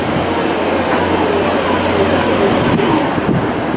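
A train rumbles steadily through a station at Birmingham International or Stockport, loud and close, with faint wheel squeal and clatter over a constant low roar.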